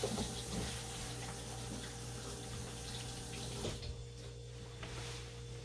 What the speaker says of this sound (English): since I just touched my mask, I'm going to wash my hands